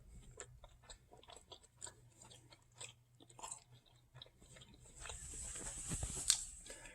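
Someone chewing a vegan meatball, soft wet mastication with faint crunches repeating in an irregular rhythm, close and quiet, without talking.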